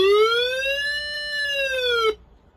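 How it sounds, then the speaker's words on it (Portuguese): A multifunction emergency flashlight radio sounds its siren, a single loud electronic wail that rises and falls smoothly, then stops abruptly, leaving faint background noise. "Você pode usar essa opção de sirene para poder pedir ajuda."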